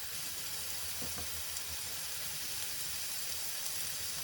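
Coriander powder, mixed powder, chili powder, salt and tomato puree frying together for a chicken tikka bhuna in British Indian restaurant style, giving a steady, soft sizzle throughout with no voices.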